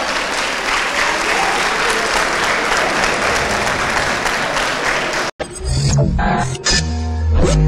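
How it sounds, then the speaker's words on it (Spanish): A large crowd applauds student project presenters at a school fair, loud dense clapping for about five seconds, then an abrupt cut to louder music-like sound with heavy low thumps. "Un aplauso, por favor."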